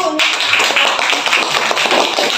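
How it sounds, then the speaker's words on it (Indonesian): A classroom group applauding after a presentation, a short burst of brisk overlapping hand claps, fairly close and loud, with no talking over it. "silakan teman-teman dikasih aplaus dulu"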